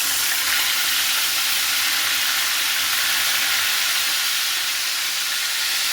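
Onion paste and green chili paste hit hot oil in a pan, giving a steady, loud, close sizzling hiss that holds without a break.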